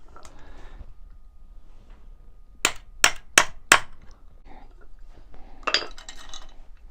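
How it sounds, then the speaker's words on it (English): A punch is hammered to drive the pin out of a bike chain on a DIY 2-stroke 80cc cruiser bike: four sharp metallic strikes in quick succession, close and alone, followed by faint clinks of metal parts. "to split the chain I'm just going to use a punch to punch the pin out"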